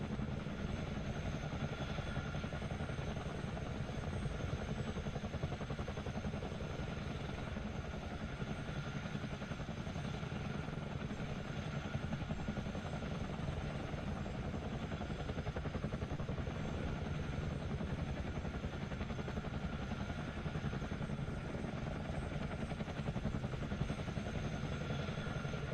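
Twin-rotor Chinook CH-47D helicopter in Microsoft Flight Simulator 2020, a steady loud droning rotor and turbine roar with faint clatter, continuous throughout with no talking.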